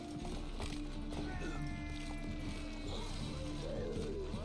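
Roach, a horse in The Witcher 3, gallops with a steady run of hoofbeats under game music and ambience, moderately loud and continuous, with a brief whinny-like cry near the end.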